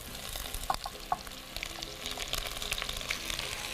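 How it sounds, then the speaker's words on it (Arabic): Onions frying in ghee or butter in a pan, sizzling steadily and fairly close, with a few sharp pops near the start before a dense, crackling hiss fills the rest. "وهنزل بالبصل."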